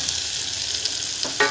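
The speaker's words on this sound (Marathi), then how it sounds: "आता त्यात मटकी आणि तांदूळ टाकायचे" Moth beans and rice tumble into a hot pan of oil and turmeric and start to sizzle and fry, with a short clatter of stirring near the end.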